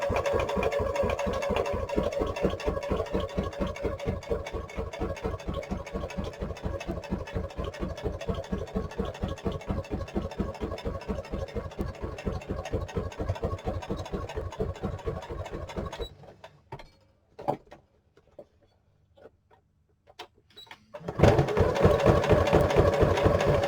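Sewing machine stitching through paper for a junk journal, a fast, even rhythmic chatter of the needle for about sixteen seconds, then a pause with scattered handling clicks before the stitching resumes loudly.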